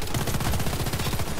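Rapid, steady bursts of PP-2000 submachine gun fire in the video game Warface during a clan-war match on the District map. The shots are loud and continuous, with no talking.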